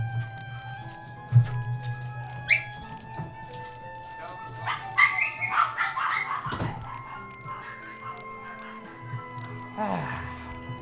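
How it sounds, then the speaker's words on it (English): Dogs barking, yipping and whimpering excitedly in a home as a family member arrives, several sharp barks scattered among higher yelps, with people talking at the same time. "Dad gets home, dogs go crazy."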